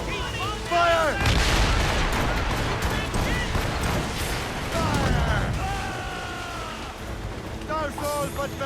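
Naval cannon volleys from a sailing warship in Assassin's Creed Rogue, heavy booming blasts rolling out in bursts amid battle noise, with shouted voices and whistling calls heard between them.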